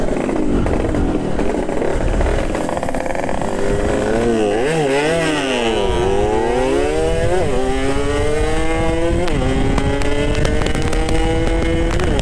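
Yamaha RX King two-stroke motorcycle with a recently fitted exhaust, revved hard at full throttle through the gears, a loud, continuous rising engine wail with pitch sweeps as it shifts, close and alone without talk.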